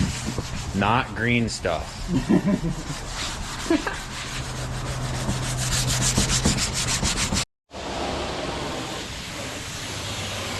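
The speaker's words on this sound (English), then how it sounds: "He's just sanding. Gonna go over all of this filler spots." Hand sanding of glaze putty filler spots on a car trunk gives steady rasping strokes, with a voice speaking briefly near the start before the scraping continues, then a short gap.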